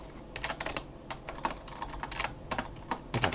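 Rapid, uneven bursts of key clicks from a computer keyboard, typed close up during a Roblox Miners Haven session, with short pauses between clusters of strokes and no voices.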